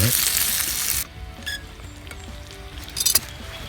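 Butter melting in a pan over a firebox stove outdoors in the woods, a loud close sizzle that cuts off abruptly after a second, followed by quieter crackles and a few clinks.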